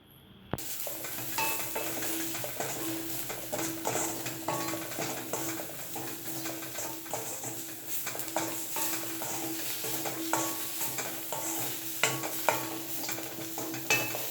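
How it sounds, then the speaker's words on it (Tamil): Coriander chutney ingredients sauté in a pan with salt added, making a continuous gentle sizzle punctuated by frequent close scraping and tapping strokes of a spoon against the pan, heard alone without talking. "இப்போ இது நல்லா வதங்கிடுச்சு."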